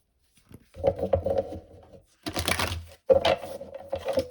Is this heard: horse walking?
no